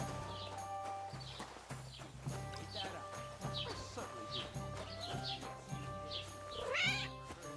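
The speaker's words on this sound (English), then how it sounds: "Please tell me I can go pet that cat." A cat meows repeatedly in the medieval game Kingdom Come: Deliverance 2, several short cries over a steady ambient bed with hooves clopping nearby, ending in a louder, rising meow.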